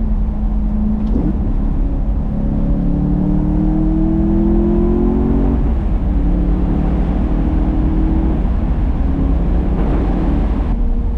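BMW E92 M3 engine under way while driving, a loud close drone with rising pitch sweeps as it accelerates through the gears, with brief dips at the shifts and no talk.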